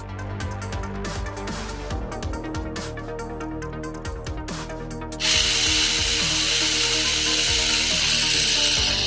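A chrome drill on the back of a Micronauts Microtron toy spins with a steady motorized whir and mechanical rattle, joined midway by a louder, brighter constant hiss that persists to the end, close and loud with no talk.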